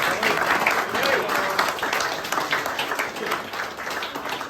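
A crowd at a cricket club awards night claps in sustained, fairly close applause for the coaches, a dense patter that slowly thins out toward the end.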